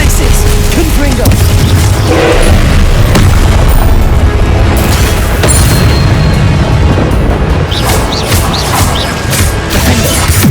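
Confringo explosion spell in Hogwarts Legacy during combat, loud repeated blasts and crashes over dense, chaotic battle noise throughout.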